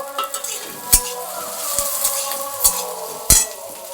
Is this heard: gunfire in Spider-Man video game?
no